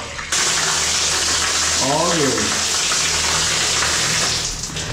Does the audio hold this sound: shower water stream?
yes